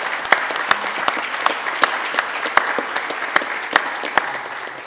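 Lively audience applause at a net-zero nuclear energy summit, sharp individual claps standing out over a steady patter of hands for several seconds before easing slightly at the end.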